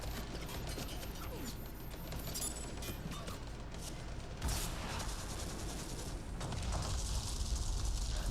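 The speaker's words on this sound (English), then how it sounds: "Explosions and dialogue." Dense, continuous game-battle noise from an Xbox video game shown at E3 2017, with bursts of explosions and gunfire layered over mechanical clatter, a heavier blast near the midpoint and another swell toward the end, with no pause.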